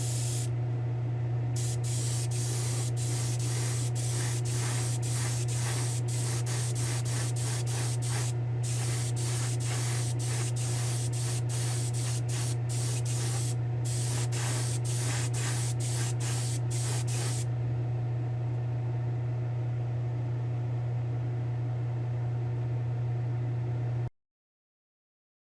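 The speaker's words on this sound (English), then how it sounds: "go ahead over to the spray booth right now and give this the final clear coat" A final clear coat is sprayed in a spray booth onto a restored Yatming diecast 1957 Corvette, with a long run of short, rapid hissing bursts over a steady low booth hum, then a continuous hiss before it cuts off.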